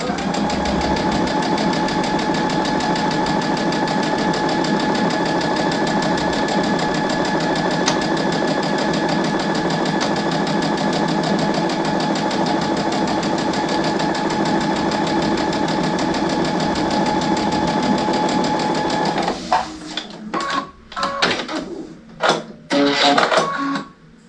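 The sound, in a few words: sewing machine sewing quilt pieces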